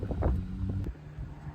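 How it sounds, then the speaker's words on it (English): Outdoor wind gusts buffet the microphone in a low, rumbling roar that is strongest at first and then eases to a steadier, softer whoosh, with a brief faint knock partway through. "It's pretty windy out here, so I hope the audio is okay."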